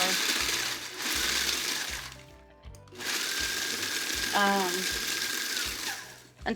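Food processor pulsing Nilla wafers into crumbs, a loud whirring motor in two bursts separated by a short pause, with a brief voice between them.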